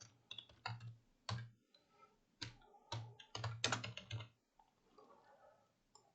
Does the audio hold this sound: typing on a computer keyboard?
yes